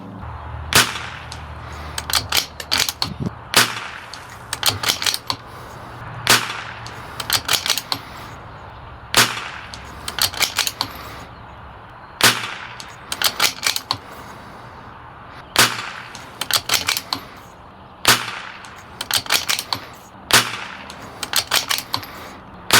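Ten unsuppressed rifle shots, fired as two five-shot groups, each a sharp loud crack with a short echo tail, spaced a second or two apart with a longer pause between the two strings.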